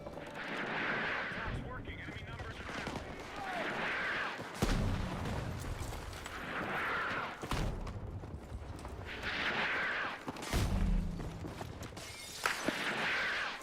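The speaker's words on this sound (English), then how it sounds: "crazy with the mortars right now" Mortar rounds landing in the shooter game Battlefield 6, Season 4: a few heavy booming impacts spaced several seconds apart, rising over a constant rumble of battle noise, with a voice talking throughout.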